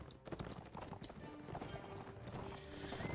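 Cavalry horses in the medieval battle game Mount & Blade Warband, with steady overlapping clip-clop of hooves on the move and an occasional whinny, close and busy, running continuously under a soft game soundtrack.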